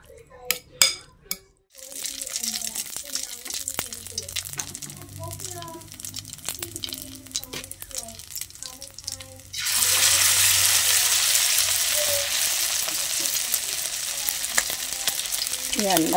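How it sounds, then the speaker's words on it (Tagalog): Grated squash omelet mixture with ground pork is stirred in a bowl with light clinks, then poured into hot oil in a pan, where a steady loud sizzle of frying takes over. "Tapos ready na itong i-prito."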